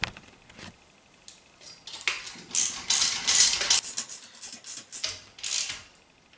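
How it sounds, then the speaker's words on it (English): A socket ratchet tightening nuts on a metal Lidl shoe organiser frame during assembly, heard as clicking, scraping mechanical bursts near the mic, growing louder and busier midway before tapering off, with no talk over it. "Now I can go through and tighten up these nuts. So I've got my socket,"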